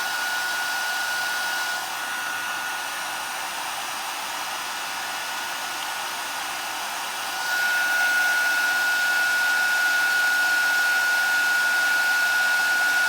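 A heat tool blows hot air to melt embossing powder, giving a steady, loud whooshing hiss close to the microphone. Partway through it shifts to a slightly louder blowing tone with a thin whine.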